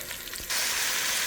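Farm-raised beef short ribs searing in a pan, a brief clatter giving way to a sudden, steady sizzle that holds loud to the end.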